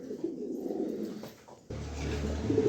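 White racing pigeons cooing in a loft, soft low repeated coos close by, with a brief quieter gap midway before the cooing resumes more fully.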